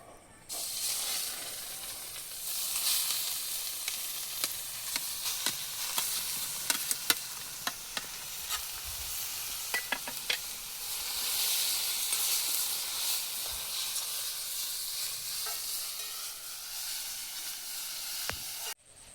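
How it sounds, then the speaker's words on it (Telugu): Grated watermelon paste sizzles and hisses steadily in hot ghee left from frying cashews, with occasional scrapes and clinks of a stirring spoon against the pan throughout. "ఇప్పుడుదాకా మనం జీడిపప్పు వేయించుకున్న నెయ్యిలోనే ఇప్పుడు తురిమి వేసుకున్న పుచ్చకాయ పేస్ట్ మొత్తం వీళ్ళు వేసుకుందాం."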